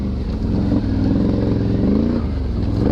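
A Can-Am Renegade 1000R XXC ATV engine roars loud and close while riding through woods, a steady throaty drone with slight pitch rises as the throttle shifts and faint clatter underneath.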